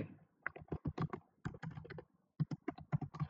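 Rapid typing on a computer keyboard during an ethical hacking vulnerability assessment: close, uneven bursts of key clicks with short pauses between runs.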